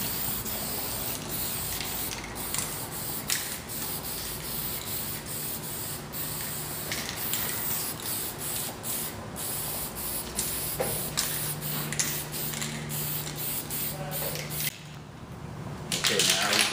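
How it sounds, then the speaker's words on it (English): Spray paint hisses steadily onto a wooden pedestal being given a faux stone finish, a continuous close spray with brief pauses, then a short break near the end. "We spray now"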